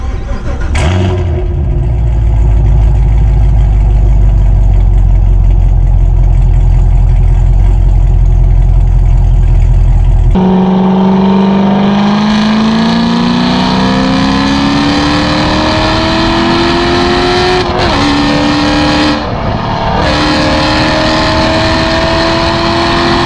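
A 2014 Corvette Stingray V8 with Speed Engineering headers and X-pipes sits at a loud, deep idle, then revs hard and rises in pitch through its modified exhaust. The engine is close and very loud throughout.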